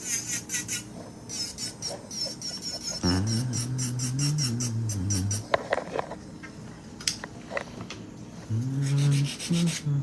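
A nail drill files an acrylic stiletto nail, giving a steady rubbing, sanding whine that rises into louder buzzing grinding bursts, heard close up with no talk.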